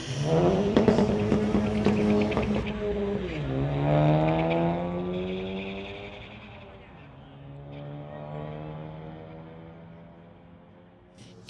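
Two Honda Civics in a street-legal drag race rev and accelerate, engines whining upward through gears, loud at first then fading into the distance, with an announcer talking over them.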